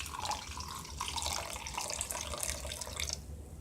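Water pours steadily from a tap into the containers of a crystal-growing jewelry kit, a continuous close splashing and trickling stream that stops just before the end.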